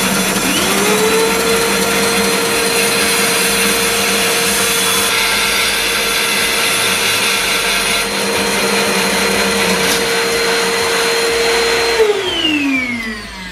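SIP 14-inch professional bandsaw making a mitred cut: a loud, steady motor whine with a sustained blade tone that runs continuously, then winds down audibly near the end.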